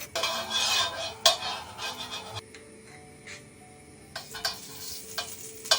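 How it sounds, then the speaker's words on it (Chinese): Meat and chili peppers being stir-fried in a pan, with a steady sizzle and bursts of scraping and stirring that swell and fade, close by and without talk. "我把这些肉切出来炒一下吧，用辣椒炒一下，辣椒炒肉。"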